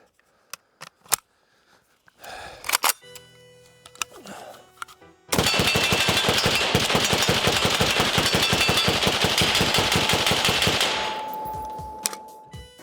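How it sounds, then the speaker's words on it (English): Rifle fired through a suppressor: a few sharp separate shots, then handling clatter, then a long dense automatic burst of rapid, even cracks that stops abruptly. "more consistent ammo means more bullets go down range"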